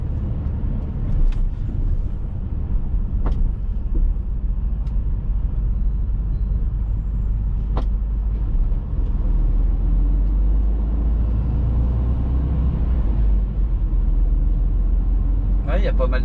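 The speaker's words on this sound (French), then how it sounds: "il y a pas mal de camions aussi qui passent par ici" Trucks passing along a road in northern France, a continuous loud low rumble of traffic with occasional sharp clanks and hisses, steady throughout.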